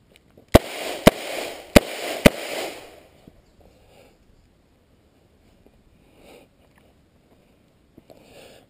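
Four sharp handgun shots crack in quick rhythmic succession during a moving shooting drill while backing up and drawing, loud and close, followed by near silence with faint shuffling.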